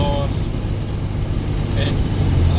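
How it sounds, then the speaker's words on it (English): A 2004 Chevrolet Silverado with a stock V6 and a small aftermarket exhaust drones low and steady while driving, a short continuous engine rumble heard from inside the cab. "a 2004 Silverado with a bone stock V6 and a little exhaust"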